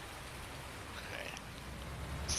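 Steady rain falls on Spectacle Island in Farming Simulator, heard as a soft, even hiss of fine drops that stays fairly faint and constant throughout, with a slight swell near the middle.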